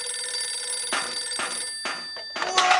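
A cartoon telephone rings in repeated bursts of bright, metallic bell trills separated by brief gaps, fairly close and loud with no voices over it.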